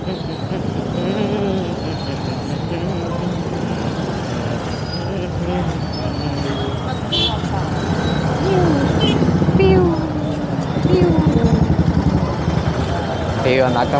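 Continuous rumble of road traffic with engines and passing vehicles, heavy and close, heard while riding an Ola S1 electric scooter, while people talk over it throughout.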